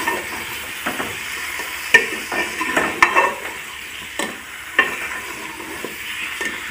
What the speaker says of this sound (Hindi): ये अच्छी तरह सारा सामान घी में मैं फ्राई करूँगी